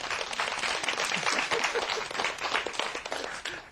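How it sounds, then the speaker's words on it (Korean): Audience applause at a Korean lecture on grains, a dense, steady wash of many hands clapping at once, sustained and fairly loud throughout with no voices over it. "이럴 땐 박수 한번 치고 합시다"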